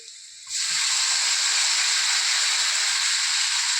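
Tomatoes hitting a hot pan while cooking pav ragda: a loud, steady hissing sizzle bursts in suddenly and holds strong to the end.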